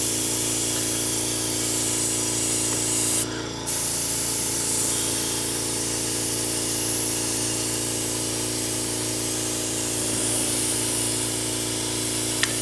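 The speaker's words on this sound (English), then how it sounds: "I just kind of spray it, get it dusty, and whatever looks good is kind of what I'll go with." Spray paint hisses steadily onto a bamboo wall of a dojo diorama, a close, continuous broadband spray with a brief break partway through.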